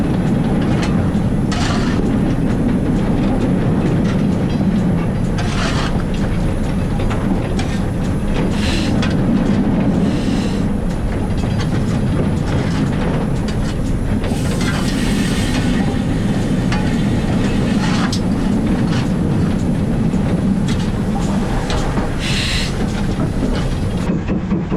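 An Accurascale Manor steam locomotive runs on rails nearby, with steady rolling rumble, rhythmic clickety-clack from the wheels and bursts of hiss over a continuous loud background.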